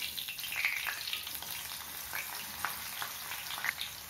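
Twenty skin-on crushed garlic cloves fry in oil in a pan, giving a continuous soft sizzle with scattered small pops and crackles, steady and close, with no voices.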